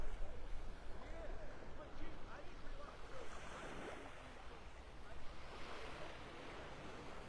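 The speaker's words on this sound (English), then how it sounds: "It feels really nice with that wind blowing." Wind blows on a beach in North Naples, Florida, rushing steadily against the microphone with gusty swells while surf washes faintly in the background; a person talks over it.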